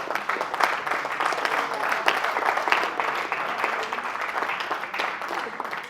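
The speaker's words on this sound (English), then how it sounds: "Give yourselves a round of applause for completing that process." A group at an IMG Academy leadership and mental performance session gives themselves a round of applause: a fairly close, even, continuous burst of many hands clapping at moderate volume.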